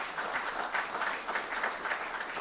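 Applause at an evening meeting on a golf course restoration, a modest crowd clapping steadily at moderate distance, fairly quiet overall.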